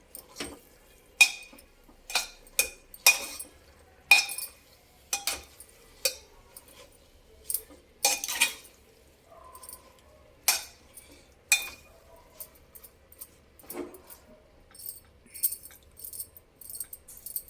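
A spoon stirs a tomato and gongura curry in a pan, giving irregular metallic clinks and scrapes against the pan. The sharp taps come one after another with short gaps, close and fairly clear, with no voices.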